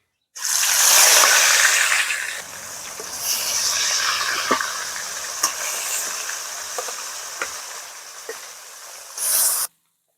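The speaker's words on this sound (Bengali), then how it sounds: "তেল গরম হয়ে গেছে এবার আমি মাছগুলো ভেজে নেব" Rohu fish pieces fry in hot mustard oil, a loud burst of sizzling as they hit the pan easing into a steady crackle with occasional pops and sharp spatters.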